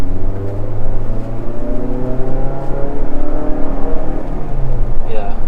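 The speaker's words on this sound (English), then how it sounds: "That's the car in sports mode" Inside a 2019 Mazda 3 hatchback driven in sports mode, the engine drones loudly and steadily as it pulls under moderate throttle, its tone rising gradually, with a voice briefly heard near the end.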